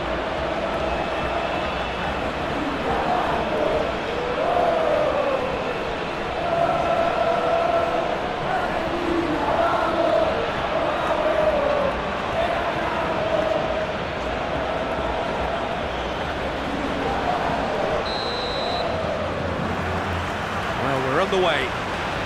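Steady crowd roar from a packed stadium in a FIFA football video game, an Argentina versus Germany World Cup final, sustained and loud throughout with match commentary spoken over it.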